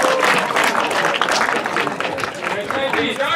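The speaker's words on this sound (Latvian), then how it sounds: "Aplaus arī viņiem." A crowd applauding at speedboat racing awards, steady lively clapping throughout with voices mixed in.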